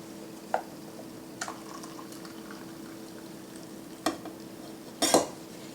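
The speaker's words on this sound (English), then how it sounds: "Add it directly to the mug and add your milk immediately so it doesn't get bitter" Milk goes into a mug holding freshly pulled espresso shots for a latte, heard as a few short splashy pours and clinks, the loudest burst near the end, over a steady low machine hum.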